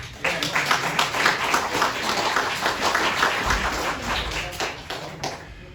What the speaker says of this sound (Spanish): Yo no sé si usted puede darle un aplauso a Cristo